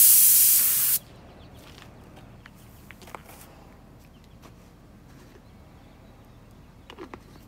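A nearly empty spray paint can gives one loud hiss of about a second while recoating bus bumper bolts and a bracket. Then it goes quiet, with only a few faint clicks and taps.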